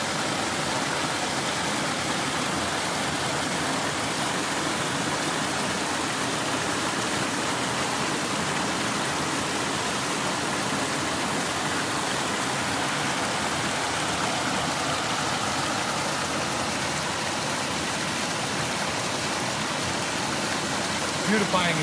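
Water churns and rushes in a swimming hole at LaBrosse Pass, a dense, steady roar of flowing water, loud and unbroken throughout.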